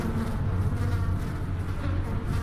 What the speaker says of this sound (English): Tesla bees have set up shop here.